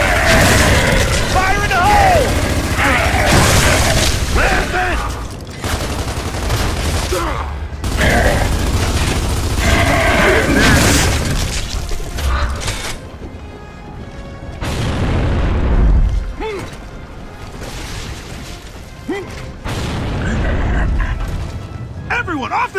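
Gears of War 3 gameplay with deep booming explosions and gunfire, heavy blasts and rumbles layered over shouting voices and busy game action throughout.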